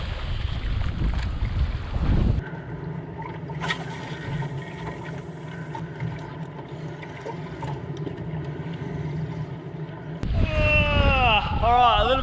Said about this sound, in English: It is windy. It's blowing about 35 knots right now. Blowing a gale.